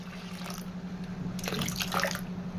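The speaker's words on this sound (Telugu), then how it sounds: "ఇందులో నేను 1 లీటర్ వరకు వాటర్ వేసుకుంటున్నాను" Water pours onto mashed tomatoes for rasam, a quiet splashing trickle that swells into a fuller, louder gush in the second half, heard alone without talk.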